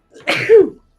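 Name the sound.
sneeze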